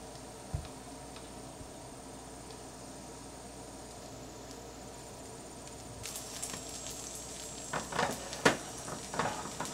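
French toast fries in butter in a pan, giving a faint, steady sizzle that grows busier partway through with scraping and shifting sounds, with no talk.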